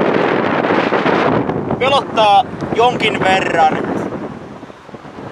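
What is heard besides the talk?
strong wind on radio mast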